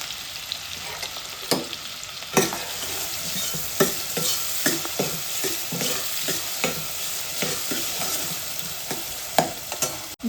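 Onions with whole spices, garlic and ginger sauté in hot oil for chole masala, a steady close sizzle broken by repeated scraping stirs, with no voices.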